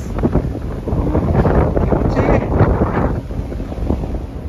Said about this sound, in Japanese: いきなり風が吹いてます。